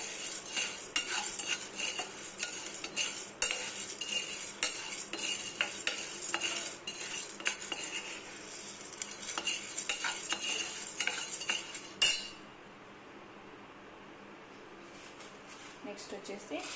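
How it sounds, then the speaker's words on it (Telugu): Lentils being stirred as they dry-roast in a pan for rasam powder, with steady scraping and rattling of a spoon against the metal for about twelve seconds, then a quieter stretch; close and fairly loud, with a voice speaking over it. "పప్పులు అయితే వేపుతున్నాము"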